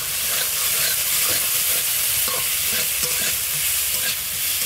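Cumin paste frying in a pan for a bean dish, with a steady sizzle and repeated scraping stirs throughout, close and fairly loud.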